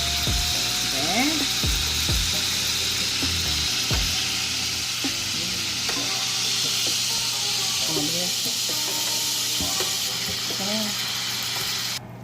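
Pork pieces fry in hot oil during Filipino hamonado cooking, giving a steady loud sizzle that runs unbroken across the whole stretch, with occasional scraping and clinking of a utensil against the pan.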